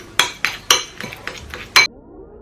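A utensil knocks and clinks against a container while baking soda toothpaste paste is mixed, seven sharp taps in an uneven rhythm, close and fairly loud, with no voices.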